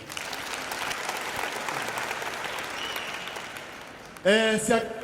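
A church youth programme crowd applauds the youth president with sustained, moderately loud clapping from many hands. A voice cuts in briefly near the end.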